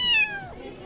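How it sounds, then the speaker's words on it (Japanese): A single cat meows at a cat exhibition with about sixty cats of twenty breeds, a short clear rising-then-falling call heard up close over faint background hubbub. "およそ20種類60匹の猫が展示されています。"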